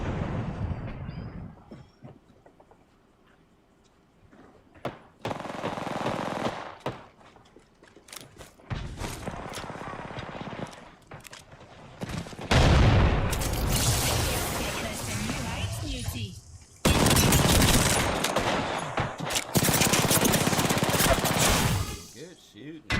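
Video game firefight with bursts of automatic gunfire and heavy shooting, loud and sustained in long stretches, separated by quieter gaps and interleaved with talk.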